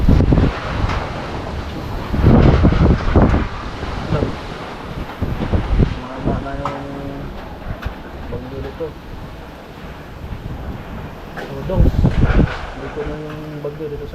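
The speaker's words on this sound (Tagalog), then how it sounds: "Sobrang lakas na yung hangin dito sa labas." Typhoon-strength gusts of wind buffet the microphone outdoors in Mandaue City, Cebu, rising and falling in roaring bursts, with brief voices and tones in the background.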